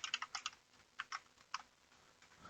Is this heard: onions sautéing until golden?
no